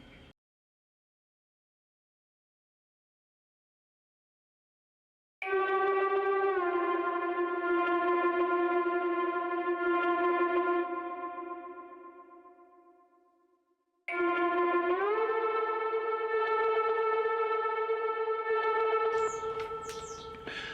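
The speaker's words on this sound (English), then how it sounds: "what I've done here is a little bit of pitch bending, so you can hear it happening partway through the note." A sustained Artistry Audio Scorpio synth pad note swells in with bright stacked harmonics, fades away, then returns and slides upward in pitch partway through the note before holding steady, heard alone with no talk.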